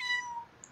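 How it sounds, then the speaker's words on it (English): A cat meows once inside The Sims 4, a short tonal cry that falls away quickly before a faint high blip near the end. "Oh, I love the kitty."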